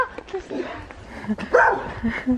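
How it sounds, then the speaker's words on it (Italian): An agitated dog barks and yips in short bursts close by, with whimpering tones between, while people talk over it. "guarda che cane agitato"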